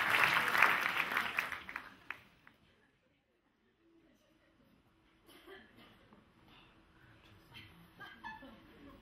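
Audience applause at a live stand-up comedy show by Favio Posca, loud and dense for about two seconds before fading to near silence, then scattered claps, chuckles and murmurs returning quietly.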